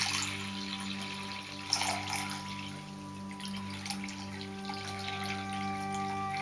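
New moon water runs into a bowl for a cleansing bath, a soft, steady trickling pour heard close up with a faint hum beneath and no talking.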